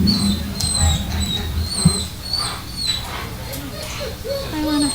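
Puppies whimper and yip at a township council meeting, with high thin cries repeated close by and chatter and talk from people in the room.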